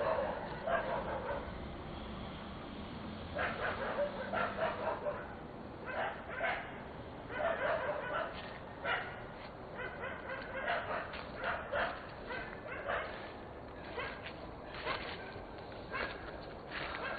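Several dogs bark and yip in repeated bursts at moderate distance over a steady noisy background, with occasional whimpers and footstep-like sounds, set within a horror story.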